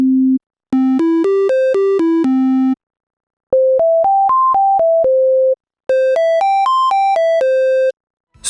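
A synthesizer triangle wave oscillator plays pure, slightly bright tones in short stepwise melodic phrases, three runs of notes rising and falling separated by brief silences, loud and clean with no voices.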